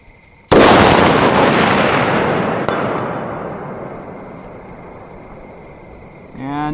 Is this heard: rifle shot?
yes